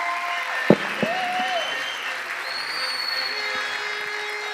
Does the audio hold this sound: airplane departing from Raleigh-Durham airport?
no